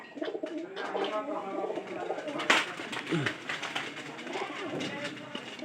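Pigeons coo repeatedly at a household loft where a new pair's chicks have hatched, soft throaty calls mixed with bird chatter while someone talks nearby.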